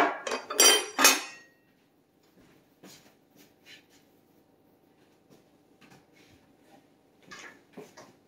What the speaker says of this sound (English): in a shallow roasting pan, which I have all set to go right here